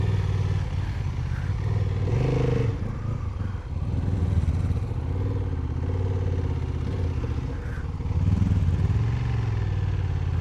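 A gymkhana motorcycle pulls away fast, its mid-pitched engine revving and fading, with some clatter and a brief renewed surge near the end.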